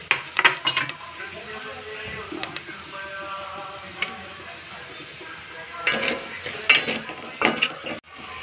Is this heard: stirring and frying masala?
yes